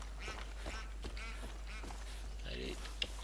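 In Far Cry 5, a duck quacks a few times in a low, nasal series over faint game ambience, with a louder, closer call near the end.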